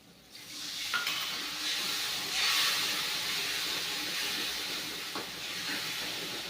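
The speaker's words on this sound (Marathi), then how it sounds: "मी याच्यामध्ये पाणी टाकते" Water poured into sizzling masala for a village-style curry gives a sudden loud hiss and bubbling steam, rising sharply then settling into a steady frying sizzle, with no talk.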